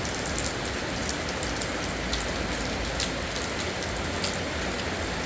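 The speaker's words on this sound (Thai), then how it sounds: "ตกแห้งๆเด้อฝนเด้อเทลงมาเทลงมาแห้งเนี่ย" Heavy rain pours down at night outside a hut, a dense, loud, continuous roar with scattered sharper drop splashes throughout and no talking.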